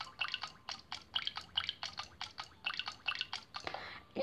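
Vinegar being poured in the Toca Kitchen 2 video game, heard as a rapid series of bright, dripping liquid blips in an irregular rhythm, fairly quiet and close, ending in a short swoosh.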